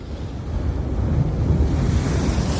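Sea waves wash in at a harbour in Kerala, India, with a low, surging roar that builds slightly, mixed with gusty wind noise and no talking.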